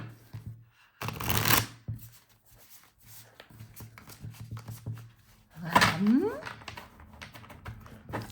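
Tarot cards being shuffled by hand, a brisk riffling burst near the start and another later, with quieter card handling in between and no talking.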